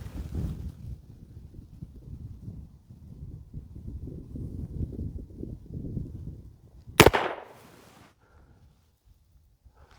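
A single-action revolver fires one .38 Special round at a cardboard target outdoors, a single sharp loud report after a stretch of wind noise on the microphone, then a brief fading echo.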